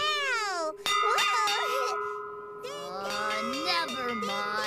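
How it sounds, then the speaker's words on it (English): A bright hand bell clangs with a long ringing tone, struck again and sustaining, while a voice calls out over it. "I'm ringing this bell!"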